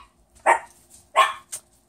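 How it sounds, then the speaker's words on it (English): House dogs bark at close range, giving two loud barks and then a shorter yip, with short gaps between them and no talking. "my dogs are starting to bark crazy"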